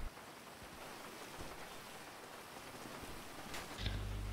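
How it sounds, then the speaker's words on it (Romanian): Steady rain falling in the video game GTA 5, a continuous broadband hiss of drops on surfaces that swells slightly louder near the end, with no voices. "Ia, da plouă."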